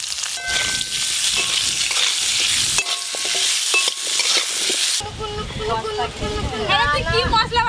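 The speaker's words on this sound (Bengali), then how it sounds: "ওই একই তেলে মাছের জন্য আলুগুলো লাল লাল করে ভেজে নেব" Potatoes fry in oil in a fish curry pan, a steady loud sizzle with occasional stirring scrapes, then the frying continues under a chatter of voices in the second half.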